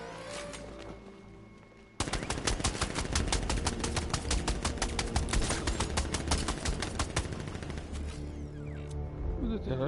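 Rapid sustained gunfire erupts after a quiet opening, a dense string of sharp automatic shots hammering on loudly for several seconds before easing slightly near the end.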